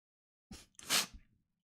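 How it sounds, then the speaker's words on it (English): A single loud, close sneeze bursts out in two quick parts, a short intake followed by a forceful explosive release, then fades into silence with no talk. "I'm a loud sneezer, and I got lucky that was only a one-off."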